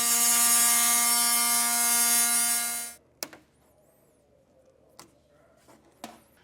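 A power driver on an RV wall whines loudly and steadily for about three seconds, then stops, followed by a few faint clicks and taps.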